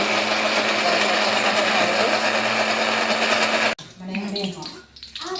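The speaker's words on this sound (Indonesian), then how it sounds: "Sekarang di blender." A kitchen blender grinds about ten candlenuts and spices for an Acehnese tuna dish, a loud steady whir for nearly four seconds that stops abruptly, followed by quieter kitchen clatter.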